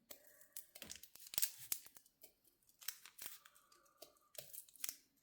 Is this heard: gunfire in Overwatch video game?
no